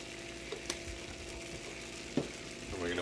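Cream poured into a hot pan after the bourbon has burned off, for steak au poivre, giving a steady sizzle and frying crackle with a sharp hiss near the end.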